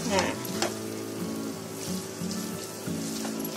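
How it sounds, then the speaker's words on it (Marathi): Maggi noodles with vegetable masala stirred in a hot pan, a soft steady sizzle under intermittent scraping strokes of a spoon, close and moderately quiet. "पहिले मॅगी टाकली, मॅगी ढवळून घेते पहिले."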